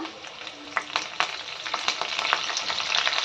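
Mustard seeds, a chili and curry leaves sizzle and crackle in hot oil in a pan for tadka, with sharp popping bursts over a steady loud hiss, close up and without talk.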